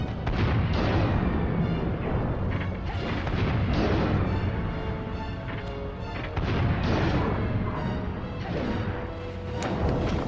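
Heavy booming cannon blasts and crashing impacts from the Dragon Quest Heroes video game, repeated loud explosions over a dense battle din with no talk.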